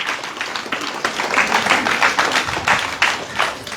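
A brief burst of clapping from a small group at a Mango Day celebration in a shelter home, scattered hands applauding fairly close for a few seconds.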